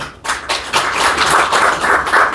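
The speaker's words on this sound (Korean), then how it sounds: "박수 한번 주시고요" Applause from an audience at a Korean Christian gathering as guests are introduced, a fairly loud, close burst of clapping that starts abruptly and continues in a steady dense patter.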